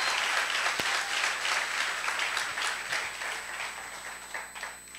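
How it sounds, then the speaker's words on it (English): A church congregation in Brooklyn applauds steadily, a dense wash of clapping hands holding for several seconds before tapering off slightly at the end. "dale un aplauso al Señor."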